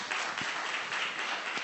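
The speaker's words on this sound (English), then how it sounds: "let's give him a round of applause" Brief applause from a conference audience after a communications talk on influence, a short steady patter of clapping at moderate level with no voices.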